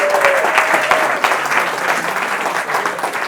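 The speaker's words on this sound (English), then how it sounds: "Can we give her a round of applause," Audience clapping at a Science and Beers talk on Einstein's universe in Odense, a dense, steady round of applause from a small crowd lasting a few seconds.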